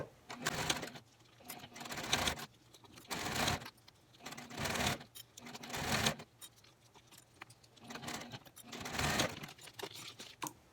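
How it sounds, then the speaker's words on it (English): Sewing machine running in repeated bursts as it stitches across layered fabric and elastic to lock the pieces together for a gift bow, each run a second or so long with short pauses between, close and fairly quiet. "I'm just going to remove the clip and stitch right across, locking in all of these pieces"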